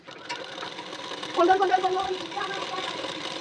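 A sewing machine runs a close topstitch along the edge of a blouse waistband, a steady low whir rising in speed midway while someone speaks throughout.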